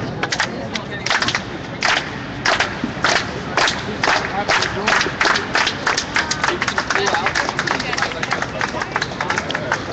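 A crowd at an Occupy protest claps in a quick, steady rhythm throughout, many hands striking together loudly and close, with voices mixed in underneath.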